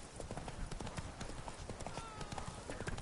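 Hoofbeats of Roach the horse galloping in The Witcher 3, a fast rapid clip-clop rhythm running continuously under a busy game soundscape, with faint speech mixed in.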